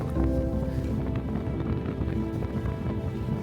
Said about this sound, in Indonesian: Air laut sedang pasang dan gelombang cukup tinggi serta angin kencang.